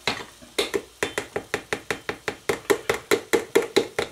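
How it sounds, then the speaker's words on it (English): Grated cheese scooped from its container for a smoked sausage and potato au gratin, heard as a steady series of sharp scraping taps, roughly every quarter second, close and fairly loud with no talking. "That noise is me getting the cheese out of the container"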